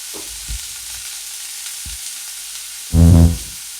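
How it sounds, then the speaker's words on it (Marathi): Chopped ripe tomatoes fry in hot oil, with a few soft knocks and scrapes of a spoon in the pan, then a sudden loud burst of sizzling as they are stirred, close by with no talk. "ते सुद्धा तेलामध्ये छान परतून घ्यायचं मऊ होईपर्यंत त्याला भाजायचं आहे"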